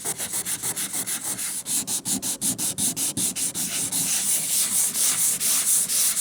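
Rhythmic back-and-forth sanding on a metal right-hand door of a 1964 Saab 96, close and scratchy, a steady rapid stroke repeating throughout.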